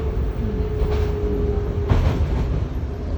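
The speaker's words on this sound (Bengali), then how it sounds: "যে আমরা একটা ট্রেনে উঠছি" Train noise at Victoria Park railway station in Canada, a steady low rumble of rail cars with a faint tonal whine and a couple of brief clanks, heard fairly close and continuous with no talking.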